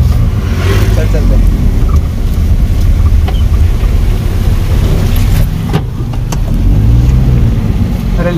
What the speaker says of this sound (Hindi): ये हमारे सोंटी भाई भाई अब गाड़ी चलाएंगे, एक्सपीरियंस लेंगे अपनी नई गाड़ी का